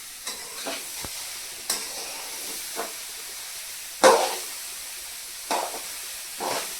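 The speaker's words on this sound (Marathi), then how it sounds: "मीठ टाकल्यानंतर परत मग हलवून घ्यायची" Khichdi simmers quietly in a pot under a soft hiss while a spoon stirs it in several separate scrapes and clinks, one louder knock near the middle, with no talking.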